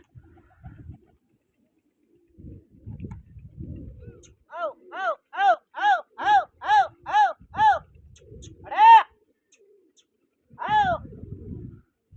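Pigeons kept for a pigeon-flying competition coo close by in a run of about ten rhythmic, rising-and-falling calls, with low murmuring voices and handling noise before and after.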